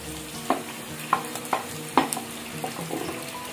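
Onions fry in a pan for an Andhra-style drumstick and dried fish curry, with a soft steady sizzle and a handful of distinct spoon scrapes and clinks spaced about half a second apart, close by.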